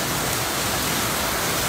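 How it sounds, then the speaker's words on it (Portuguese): Steady rain falls as a cold front arrives at a house under construction, a dense, loud, unbroken hiss with no voices. "essa frente fria chegou mesmo com chuva e tudo."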